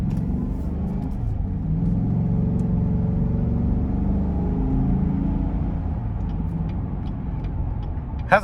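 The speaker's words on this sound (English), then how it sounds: "Has a nice engine and exhaust tone." A 2020 GMC Yukon SLE with a 5.3L V8 accelerating, its engine and exhaust giving a steady, deep rumble heard from inside the cabin, swelling gently as it pulls and easing near the end.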